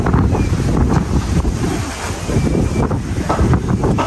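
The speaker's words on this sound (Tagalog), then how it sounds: "Lakas ang hangin." Strong wind roars and buffets the microphone in steady gusts, with a rushing, surf-like wash underneath and no voices.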